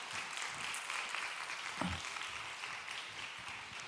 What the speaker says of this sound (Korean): 우리 박수 한번 부탁드릴게요.